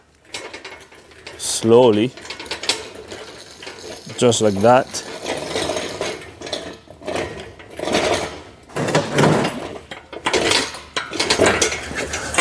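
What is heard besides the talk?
engine hoist being slid back with Chevrolet Cruze engine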